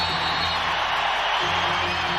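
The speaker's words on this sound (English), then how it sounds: "Crowd very much in it." Basketball arena crowd at an Orlando Magic versus Indiana Pacers game, a dense, loud continuous roar of cheering that holds steady for a couple of seconds.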